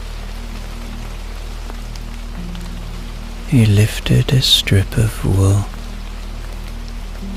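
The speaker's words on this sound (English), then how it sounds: "let the steady drizzle roll in." A steady drizzle of rain drifts in through an open window at night, making a soft, continuous hiss beneath a calm narrating voice.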